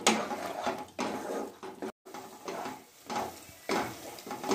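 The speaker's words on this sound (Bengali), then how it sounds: "তারপর ভালো করে কষে নেব যতক্ষণ না পর্যন্ত কাঁচা গন্ধটা চলে যাচ্ছে" Spice paste for kadai chicken is stirred and fried in a pan, with rhythmic scraping strokes and a soft sizzle repeating in bursts, fairly quiet and close with a brief gap.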